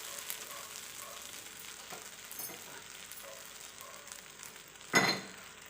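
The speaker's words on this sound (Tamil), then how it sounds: "தேங்காய் துருவல் போட்டு நல்லா வதக்கிக்கிட்டு" Grated coconut sautés in a pan for mango rice with a soft, quiet sizzle and light stirring, then one sharp metallic clank near the end.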